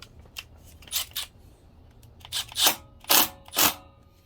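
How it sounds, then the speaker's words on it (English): Cutters snip off a wire end while a CDI conversion kit is installed on a Honda Z50, producing a series of crisp, close snapping clicks at uneven intervals, with no talk. "We're just going to snip it off."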